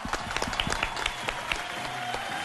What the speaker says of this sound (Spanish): ¡Fuerte el aplauso para nuestra primera candidata!